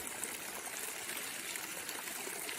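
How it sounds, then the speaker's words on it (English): A running stream with ripples and small waterfalls, a continuous faint trickling and splashing of water, even and steady, with no voices. "The stillness of the running stream, even within the sounds of the ripples, the little waterfalls."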